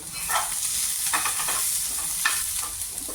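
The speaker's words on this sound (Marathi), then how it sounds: "आता आपण त्यामध्ये एक हिरवी मिरची घेतलेली आहे ते टाकून घेऊ" A green chili sautéing in a pan with onions for a green pea curry, a steady sizzle broken by rhythmic bursts of scraping as it is stirred, no voices.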